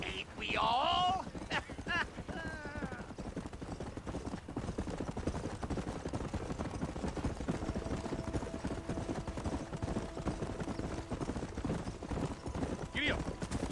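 Horse hooves trot in a steady clip-clop rhythm through a Red Dead Redemption game scene, continuous and mid-distance, with a brief whinny-like sound near the start and game voices talking over parts of it.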